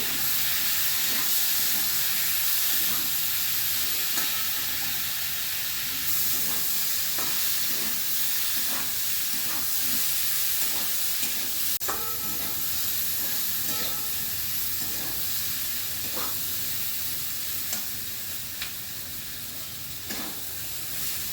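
Boiled taro pieces and prawns sauté together in a pan for a prawn curry, making a loud, continuous hissing sizzle with faint, intermittent stirring clicks underneath, close by and without talking.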